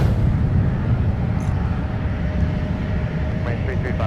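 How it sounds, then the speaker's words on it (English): An American Airlines A319 airliner inbound from Phoenix touches down on a parallel runway, a steady loud broadband roar of engines and rushing air holding throughout. "let's take another look at our American A320, or A319 rather, touching down on the South Parallel Runway"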